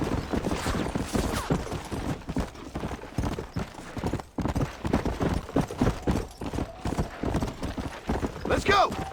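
Horse hooves clip-clop steadily in Red Dead Redemption, a rapid rhythmic clatter of several horses close by, with game characters shouting over them and a horse whinnying near the end.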